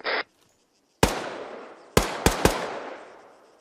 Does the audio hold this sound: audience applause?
no